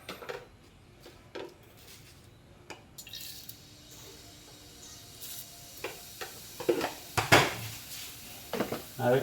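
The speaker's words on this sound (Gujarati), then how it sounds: "પહેલા આપણે નાખીશું જીરું." Cumin seeds drop into hot oil for an aloo kanda sabji, with soft crackles that swell into louder sizzling bursts and a few utensil clinks near the end.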